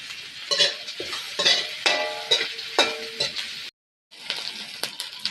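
Curry leaves and green chili sautéing in a pan, with a steady sizzle, periodic stirring scrapes and clinks of a utensil, and a brief silent gap near the end.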